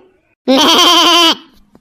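A goat gives a single loud bleat close by, a wavering cry lasting just under a second, then silence.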